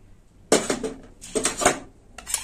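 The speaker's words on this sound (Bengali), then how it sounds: "মশলাটা আমি গুলে নেব।" Spoon clinking against a bowl while cumin, coriander, chilli and turmeric powders are stirred with water, in two bursts of rapid scraping taps, close and fairly loud, with no talking.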